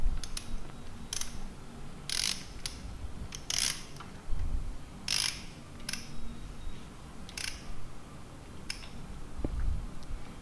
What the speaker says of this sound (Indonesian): Ya dikencengin lagi, itu baut 8 dua-duanya.